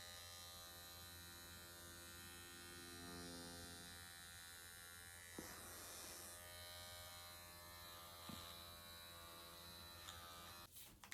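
A Dr Pen M8s microneedling pen buzzes steadily at close range throughout, a constant electric hum with a few faint clicks and taps near the end.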